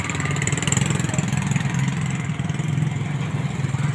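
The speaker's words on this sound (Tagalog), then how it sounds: "Mga motor nangagi mga motor." Motorcycles run past on a road beside a landslide, their engines loud and close, a steady low droning hum filling the whole moment with no talk over it.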